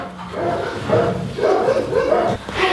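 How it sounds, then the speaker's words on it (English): Dogs bark in a rough, ongoing cluster, muffled and somewhat distant, with a few louder yaps standing out. "God, the dogs are barking up a storm."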